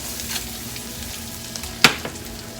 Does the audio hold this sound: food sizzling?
yes